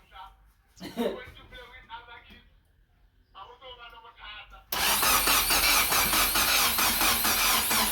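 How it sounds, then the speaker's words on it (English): Newly rebuilt car engine being cranked after assembly at a workshop, with talk and a squeal first, then the engine catching and running loud and steady to the end. "Today is the first time we're gonna crank it after assembling the new engine"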